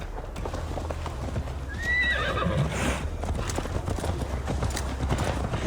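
Horse in Assassin's Creed Valhalla, hooves clip-clopping in a steady trot with a high neigh partway through, close and clear over faint background ambience.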